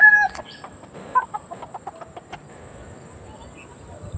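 Chickens in a backyard coop cluck and call in a series of short, nearby bursts, louder at first and then thinning out over a steady low ambient background.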